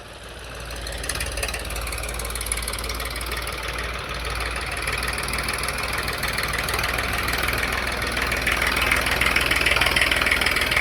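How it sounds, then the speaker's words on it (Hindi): A New Holland 3032 TX tractor engine with a new silencer runs close by under increasing load, its rumble growing slightly louder and harsher over time with a steady knocking throb, no voices. "जैसे ट्रैक्टर पर थोड़ा थोड़ा लोड पड़ता है वैसे भाइयों साउंड बदला जा रहा है"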